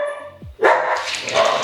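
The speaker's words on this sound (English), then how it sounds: "Excuse my dogs, they're acting insane." Dogs bark indoors at home: one sharp, loud, close bark follows a brief whine, then excited barking and yipping carries on to the end.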